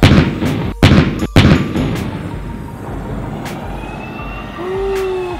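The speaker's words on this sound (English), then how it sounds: "Tank is scanning for a target, it's rolling up, and it'll fire just after it gets up on top." A military tank firing its main gun in a series of loud, sharp blasts with heavy low rumble, followed by engine and track noise as it rolls up onto a rise, ending with a rising whine.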